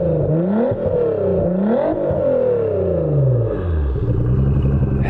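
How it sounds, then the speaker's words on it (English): A 1990s Nissan 300ZX with a widebody build, idling at a track event, gets blipped in a couple of quick revs: the engine climbs and falls repeatedly, rising to a sustained higher rev near the end, close and loud. "Do you mind just giving us a couple revs real quick?"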